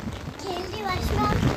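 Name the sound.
heavy rain falling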